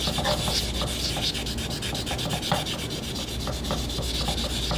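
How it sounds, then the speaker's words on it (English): A walking-stick surface is wet-abraded with conditioner A, producing a fast, continuous back-and-forth scrubbing rasp, close and steady, with no voices. "So again, wet abrade with the conditioner A."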